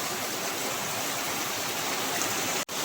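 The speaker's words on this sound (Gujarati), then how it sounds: "પવન સાથે વરસાદ આવ્યો છે." Steady, dense rain pours down in a continuous hiss, with a breezy rush mixed in; the sound cuts out for an instant near the end.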